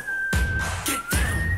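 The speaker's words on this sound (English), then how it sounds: "The whistle in the back that they've kept in like the different spaces throughout has been" Melodic whistle sustained in the background of a pop song, one steady high tone gliding gently while punchy bass beats hit beneath it.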